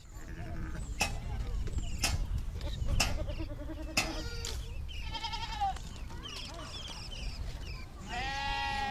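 Goats in a Kenyan village bleat repeatedly, several wavering calls near and far overlapping, with low ambient rumble and occasional knocks underneath.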